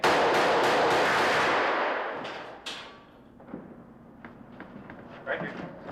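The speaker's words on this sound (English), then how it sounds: "3 or 4 of the bullet hits to get the blood gushing and spurting off the chest cavity" Bullet-hit squib effects fire on the 1987 Robocop film set: a loud burst of blasts, then scattered sharper pops and thuds that fade out, with voices around them.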